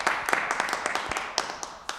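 Scattered clapping from an audience, a loose spread of sharp hand claps at an uneven pace, moderately loud but thin, as though from a modest crowd, with no voices over it.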